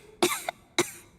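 A female character in the video game Genshin Impact coughs twice, two short sharp bursts about half a second apart, close and alone.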